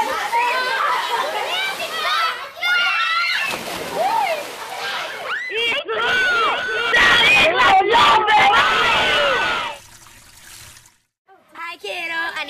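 Children playing and splashing in running tap water outdoors, with lively shouting and excited voices over steady sloshing and splashing, loud and close, before things briefly quiet near the end.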